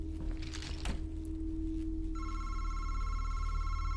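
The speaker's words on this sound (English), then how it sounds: "Where's the phone? I hear it from here" Ringing telephone inside a first-time playthrough of a spooky video game, a steady electronic trill starting midway and continuing over a low droning ambience.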